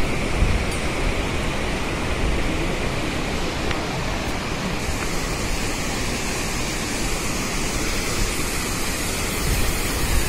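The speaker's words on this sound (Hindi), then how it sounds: "पहाड़ पे से नीचे बह के आती हुई जलधारा जो मंदाकिनी नदी के पानी में ही मिल रही है" Mountain stream rushing down a slope into the Mandakini river on the Kedarnath trek from Gaurikund, a steady, loud, dense roar of flowing water throughout with no voices.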